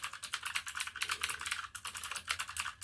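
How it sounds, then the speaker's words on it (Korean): Rapid, continuous typing on a blue-switch mechanical gaming keyboard with round pebble-shaped keycaps, giving a crisp, clicky, evenly paced clatter heard up close with no talking. "기계식 키보드 중에서는 이제 청축이 확실히 타격감이 확실히 있는 것 같아요. 이게 딱 타이핑할 때 느낌이 계속 치고 싶은 느낌."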